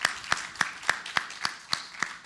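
Audience applause at a health and safety symposium session, a sparse run of about eight distinct claps spaced roughly evenly, moderately loud and close with no talk over them.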